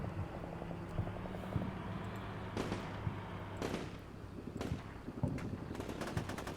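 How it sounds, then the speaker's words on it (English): Scattered gunfire in the Red Barricades battle game, with sharp shots and short bursts cracking at mid distance over a steady low rumble and wind, irregular and spread across the stretch. "Well, they are getting shot at up there."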